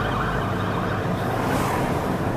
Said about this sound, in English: a police car just tore ass